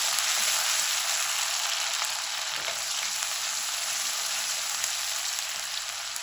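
Finely chopped onion and red chili fry in a pan with a steady, loud, unbroken sizzle that holds evenly throughout, close up and with no voices.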